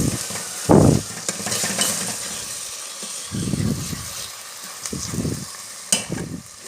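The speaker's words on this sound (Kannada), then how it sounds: "ಈಗ ಟೊಮೆಟೊ ಹಾಕುವ. ಈಗ ಚೆನ್ನಾಗಿ ಮಿಕ್ಸ್ ಮಾಡುವ." Chopped tomato and browned onions sizzle in a pan, with a steady hiss broken by several loud bursts of spoon-stirring scrapes, heard close and without talk.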